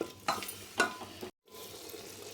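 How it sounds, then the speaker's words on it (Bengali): A spoon scrapes through tomato and ginger-garlic paste in a pan for chola ghugni, making two short stirring strokes with a faint sizzle before a brief pause. "এখন আমি টমেটোটা আর আদা রসুনটা এর সঙ্গে ভালো করে মিশিয়ে নেব"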